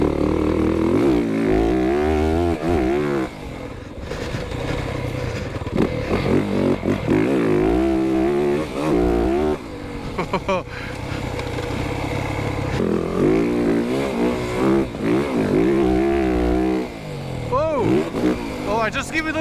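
A 2025 Yamaha YZ450FX dirt bike engine set to its most aggressive map rises and falls under throttle, loud and close, with a rider talking over it throughout.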